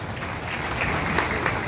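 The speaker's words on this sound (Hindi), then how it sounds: "आपने सब तालियों ना नाथी माननीय मुख्यमंत्री नु स्वागत करिए। जोरदार तालियों थी स्वागत करिए।" A crowd at a public rally in Bodeli claps to welcome the Chief Minister. The applause is dense, continuous and moderately loud, swelling slightly toward the end.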